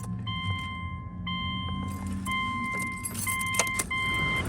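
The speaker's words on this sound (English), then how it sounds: "Stick the key in the ignition." A key slides into the ignition of a 2009 Subaru Outback, with keys jangling and a steady chime of repeating tones sounding in the car interior.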